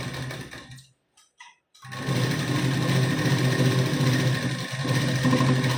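A domestic sewing machine stitches layered blouse pieces, running in a steady continuous whir with a short pause early on before resuming for the rest, close and fairly loud.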